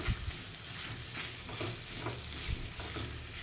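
Kasuri methi being stirred into a dry farali potato sabji frying in a pan: a steady low sizzle with soft scraping stir strokes and a few thumps, fairly close, no talk.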